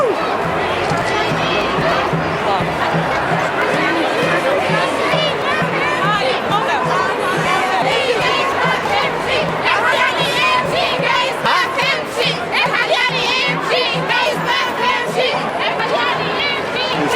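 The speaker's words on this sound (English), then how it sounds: "I just wanted to get an idea of how large the crowd is" Large crowd at a Free Egypt solidarity rally in Times Square, a dense, continuous roar of chanting, shouting and chatter close around, with many voices overlapping.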